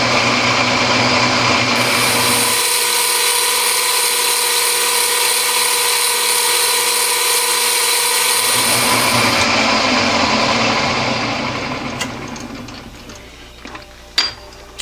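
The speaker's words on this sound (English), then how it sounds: "Just get the centre drill in there." A centre drill turns in a lathe as it bores into a scrap steel workpiece, giving a steady high mechanical whine with a constant hum that holds for about ten seconds, then fades, followed by a couple of sharp clicks.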